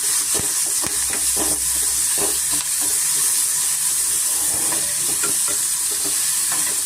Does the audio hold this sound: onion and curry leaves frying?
yes